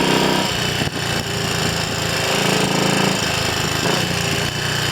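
Triumph Cub scrambler replica motorcycle's small single-cylinder engine revving hard and loud close by, a steady buzzing roar with brief throttle dips, no voices.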